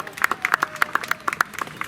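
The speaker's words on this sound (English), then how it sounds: "Let's give him a round of applause." Passengers aboard a ship clap for a canoe guide, a small scattering of sharp, uneven handclaps close by with a voice or two mixed in.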